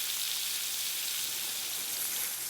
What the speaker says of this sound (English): we have it ready to go in the butter as soon as the onions and peppers are